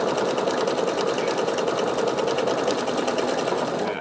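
Pfaff Creative Vision sewing machine stitching an automatic buttonhole, a loud, close, steady whirring hum with rapid needle chatter running without pause before cutting off at the very end.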